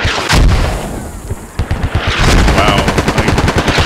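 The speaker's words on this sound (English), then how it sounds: "So this, I would say, will be the target for the coalition mortars." Mortar rounds landing in the video game Squad, a series of loud booms and rapid crackling impacts that start abruptly and keep pounding close by for several seconds.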